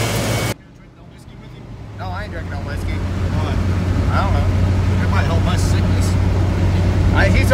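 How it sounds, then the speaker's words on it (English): Engine idling steadily after a brief loud start, with a low continuous hum and faint ticking that may be a noisy valve lifter; people talk over it throughout. "Listen to that lifter."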